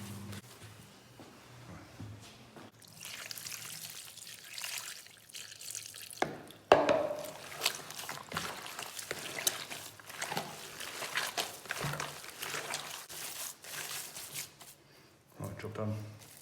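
Hands squelch and knead venison sausage meat with rusk in a bowl, a steady wet mixing sound with occasional sharper slaps, while someone talks over it.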